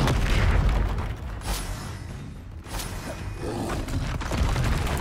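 A Confringo spell explosion in the video game Hogwarts Legacy gives a loud, booming blast with whooshing bursts that swell and fade over several seconds.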